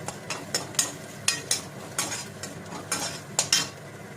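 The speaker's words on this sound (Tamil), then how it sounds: "இப்போ வெங்காயத்தை நம்ம நல்லா வதக்கிடலாம்." Onions sautéing in a pan for a lady's finger (okra) dish, with a soft steady sizzle beneath about a dozen sharp, evenly spaced scrapes and taps of a spoon against the pan, close by and without talk.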